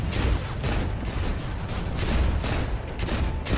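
Rapid, continuous gunfire in the video game Destiny 2 rattles at close range for several seconds, with dense overlapping shots and no pauses.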